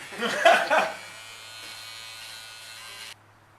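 An electric shaver cuts hair during a haircut, a steady close buzz that drones for about three seconds and then cuts off, with a brief voice and chuckle near the start.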